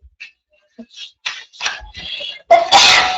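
Several short bursts of sneezing or coughing break out in a meeting room, a few faint ones first and then a loud, sharp, close sneeze near the end, with brief voices mixed in.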